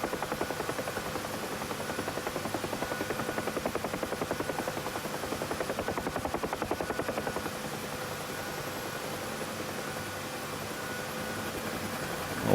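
Steady, dense rotor and turbine roar of a helicopter hovering in the DCS flight simulator, unbroken and even throughout with no talk, ending in a brief swell at the very end.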